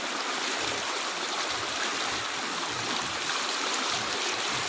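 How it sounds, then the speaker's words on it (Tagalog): Strong floodwater rushing down from the mountain at Bunga Ilaya, Jagna, a loud, steady, unbroken roar of churning water that fills the whole clip. "Na, kusog do ang baha ang ikas bukid."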